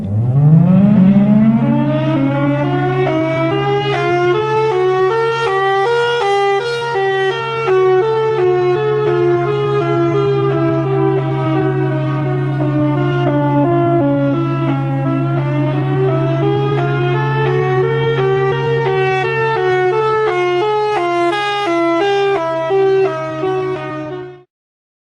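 A giant Siren Head creature's siren call rendered as a long, loud wailing siren tone, rising and swelling in pitch, with a steady low drone beneath it. The sound holds continuously for about 24 seconds and then cuts off abruptly.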